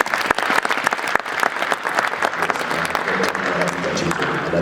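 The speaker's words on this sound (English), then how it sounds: "Neil Padmore, let's give him a beautiful round of applause." Audience clapping for a panelist at an ICT summit panel session, loud, busy applause with sharp individual claps standing out, with some music or voices faintly beneath.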